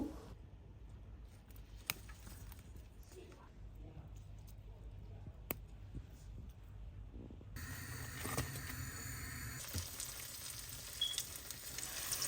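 Lau (bottle gourd) leaf fritters fry in hot oil, a faint, steady sizzle that grows a little louder and brighter partway through, with a few soft clicks in the background.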